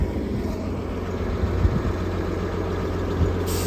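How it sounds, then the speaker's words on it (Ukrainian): ZIL 4331 truck fitted with a 240 hp intercooled Mercedes engine idling, a steady low rumble held close and even for the whole stretch with no talk over it. "Мотор Mercedes з інтеркулером на 240 сил."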